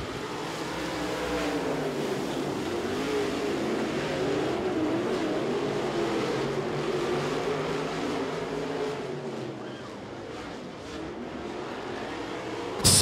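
AMS modified race cars racing in a heat race at Tazewell Speedway, a loud continuous roar of several engines rising and falling as the pack circles the track.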